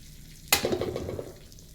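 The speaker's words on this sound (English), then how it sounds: "I'm going to crack a few of these eggs" Eggs cracked into hot margarine in a wok burst into a sudden loud sizzle that settles into steady crackling frying, with a quiet lead-in before the hit.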